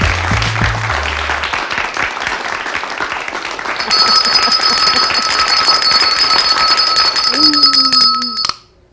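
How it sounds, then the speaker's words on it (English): A bell at a radio studio cafe show rings on and on with a steady high metallic tone that sticks rather than stopping, over a bed of clapping and speech before it suddenly cuts out. "My bell got stuck."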